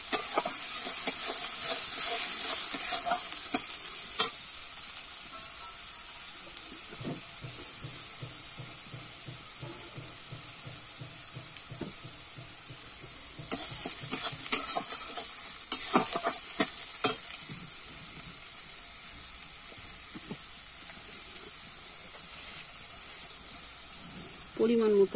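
A cumin and coriander paste sizzles in oil with fish head and soybean in a pan, a steady hiss broken by bursts of stirring and scraping, with a voice talking at times.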